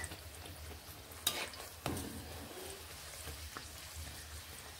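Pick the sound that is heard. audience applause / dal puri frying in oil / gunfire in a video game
dal puri frying in oil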